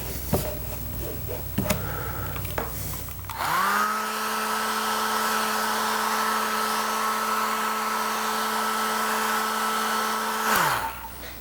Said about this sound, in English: I'll apply a little heat to keep the glue active.